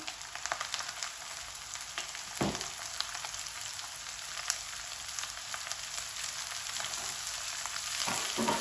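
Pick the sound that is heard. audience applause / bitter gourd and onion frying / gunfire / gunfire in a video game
bitter gourd and onion frying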